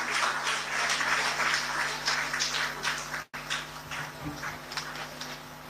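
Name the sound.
round of applause for Soumya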